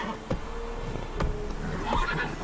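Geralt's horse Roach in The Witcher 3 video game gives a few short snorting whinnies over muffled hoof thuds and game ambience, at moderate volume, with no voices.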